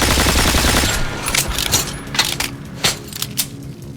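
Gunfire in the video game Metro: Last Light: a loud, dense burst of rapid shots at first, thinning into scattered sharp cracks and metallic clinks, heard alone without talk.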